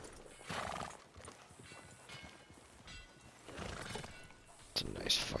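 A horse in the video game Red Dead Redemption 2 clip-clops along at a gallop and lets out whinnies, fairly quiet under the game's background sounds and speaking voices.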